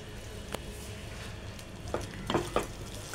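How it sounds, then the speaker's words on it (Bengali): Chilli, fennel, coriander and cumin fry quietly in a pan, a soft low sizzle with a few light stirring clicks and scrapes toward the end. "এখানে আছে লঙ্কা, মৌরি, ধনে, জিরে। এই সমস্তগুলো ফ্রাই হবে।"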